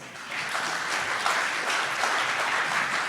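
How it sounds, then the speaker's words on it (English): An audience applauds panelists at the close of an industry panel discussion on supply chains and Industry 4.0 in Asia Pacific, producing a steady, moderately loud wash of clapping throughout. "Please give them a round of applause."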